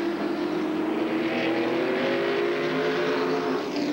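A pack of stock race cars at a 1994 NASCAR Southwest Tour event roars past the line, a loud, continuous blended engine drone with rising and falling pitch as the field passes close by.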